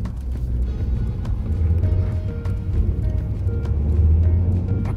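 Low, steady engine drone from an Astra 1.6 turbo remapped with a Stage 1 ECU tune, building slightly under acceleration with faint intake breathing, continuous and fairly close throughout.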